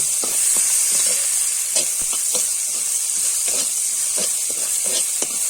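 Steady hot sizzling and hissing from a pan of ghugni after a little water is added, with scattered stirring clicks and scrapes throughout, close and loud with no talking.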